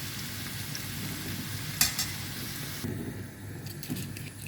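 Carrots and peas sizzle steadily in oil in a pan for a Kashmiri pulao, with a spoon stirring and scraping and a couple of sharper clinks partway through.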